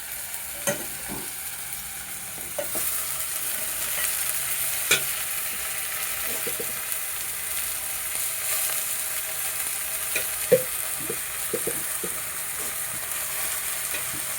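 Chickpea leaf greens hit a pan of oil on a low flame and are fried with a soft, steady sizzle, broken by scattered sharp clicks and knocks of a spoon stirring against the pan.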